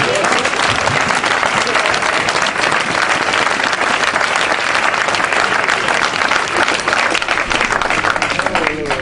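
A congregation claps loudly and continuously in acclaim of the Lord, a dense sustained wall of applause filling the room without a break.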